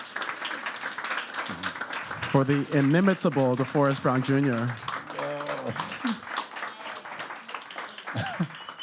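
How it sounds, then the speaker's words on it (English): Audience clapping for DeForrest Brown Jr. at a lecture and live music performance, scattered around a host's voice, strongest before the speech and rising again afterward. "One more round of applause, please"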